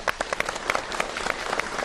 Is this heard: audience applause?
yes